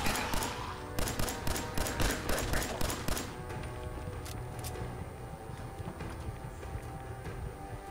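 Rapid bursts of gunfire crackle through a post-apocalyptic video game, loud and dense at first, then easing into a steady rumbling backdrop.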